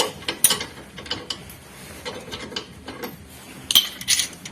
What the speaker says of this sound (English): Use wrenches to loosen the bolt so it doesn't stick.